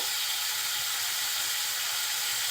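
Small new potatoes sizzling in a hot pan while Bengali aloo dum is cooked, giving a steady, bright hiss that stays even and continuous the whole time, with no talk over it.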